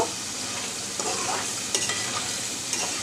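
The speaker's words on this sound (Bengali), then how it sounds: "মরিচ কষানোর সাথে সাথে মুখিটা একটু কষিয়ে নিচ্ছি" Taro corms and chili fry in a pan with a steady, dense sizzle, and a few sharp scrapes and clinks come from stirring, close and fairly loud with no talking.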